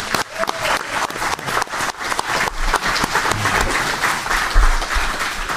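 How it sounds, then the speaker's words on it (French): Audience applause at an electric vehicle show in Saint-Hyacinthe fills the space, a dense, steady burst of many hands clapping close by with some crowd murmur underneath, lasting the whole stretch. "Ça mérite une main d'applaudissement."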